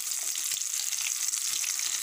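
Dynamite lumpia sizzle steadily in hot oil, a dense continuous crackle of frying with scattered small pops, close and fairly quiet, with no voices.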